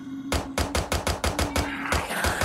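Gunfire in a Roblox game: a rapid burst of about eight sharp, loud shots in quick even succession, followed by a few more overlapping cracks, with no voices.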